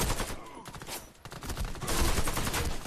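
Dense rapid gunfire in an online shooter game, heard as loud continuous bursts and rattling shots throughout, with little talk.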